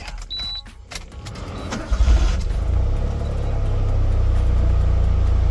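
A van engine cranks and catches about two seconds in, then settles into a steady low idle, with a brief whine and clicks beforehand.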